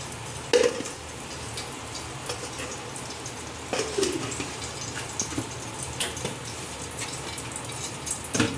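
Chicken pieces frying in ghee in a pan while making kuzhi mandi, a continuous close sizzling hiss broken by a few louder knocks and clatters from the pan.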